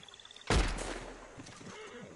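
A single loud rifle gunshot in Red Dead Redemption 2 Online, with a sharp crack and a rumbling tail that fades over a second or two, heard alone after faint ticking.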